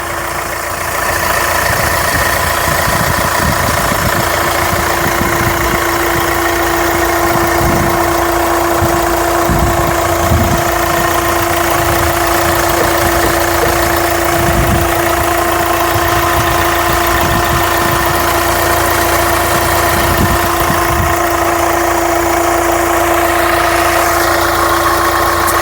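A 2019 Hyundai Venue diesel engine idling with a steady, even drone and faint irregular knocking pulses, running continuously at a constant level from start to finish.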